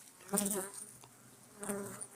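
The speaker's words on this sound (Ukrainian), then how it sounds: "Ось корпусний вулик." Close buzzing of bees at a frame beehive in two bursts, a loud drone then a quieter stretch before it swells again, with faint voices nearby.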